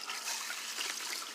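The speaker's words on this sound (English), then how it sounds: "I'm going to actually rinse this water out" Water rinsed off a large glass bar tabletop during a DIY etching job, trickling and splashing briefly and softly up close, with no voices.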